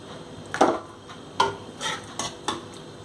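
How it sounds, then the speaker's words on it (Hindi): Potato pieces dropped one by one into a biryani pot for prawn and egg biryani, giving a few soft thuds and clatters spaced about a second apart, close and moderately loud, with no one talking. "सबसे पहले मैं नीचे आलू डाल रही हूँ"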